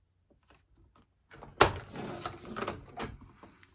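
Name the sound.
cutting paper strips for a scrapbook layout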